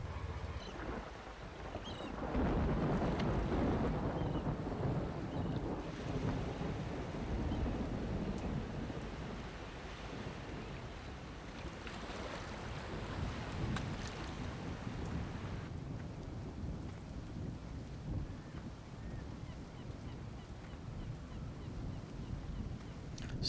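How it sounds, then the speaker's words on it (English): Storm and rain effects in the video game Farming Simulator 17 on a sandy bay map: a steady roar of wind and surf-like wash, loud and broadband, swelling after a couple of seconds and running continuously with no talk. "the storm and the rain effects that he's added in"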